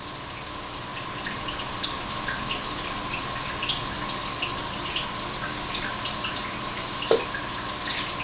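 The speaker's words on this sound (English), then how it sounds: "Now it is time to wash the fish." Tap water runs steadily into a sink while a freshly cleaned trout is rinsed, a constant splashing wash with a small clatter near the end and no talking.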